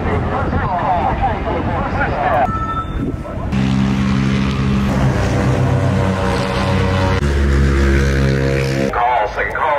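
Motorcycles ripping around corners and down the straight at a Portland International Raceway track day, their loud engine drone rising and shifting in pitch over several seconds, with people talking nearby.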